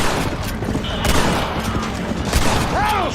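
Gunshots ring out in Red Dead Redemption, a loud close volley of sharp cracks and booms in quick irregular bursts, with voices talking over the firing.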